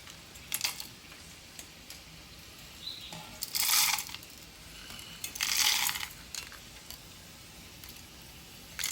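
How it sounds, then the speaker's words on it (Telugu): Whole spices for a temple-style kootu are dropped into a mixer grinder jar, heard as scattered close clicks and rattles with a couple of louder rustling pours. "మనం ఇప్పుడు ఈ మిక్సీ జార్లోకి ఈ మసాలా దినుసులన్నీ వేసుకుంటున్నామండి"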